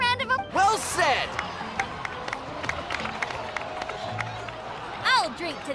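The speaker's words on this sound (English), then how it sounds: "please give another round of applause" Genshin Impact cutscene crowd applauding and cheering, a continuous bed of clapping and crowd noise with voices shouting over it at the start and near the end.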